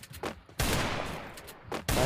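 Gunfire in the mobile battle game Free Fire, with two loud close bursts of rapid automatic shots separated by brief pauses, plus a few lighter shots at the start.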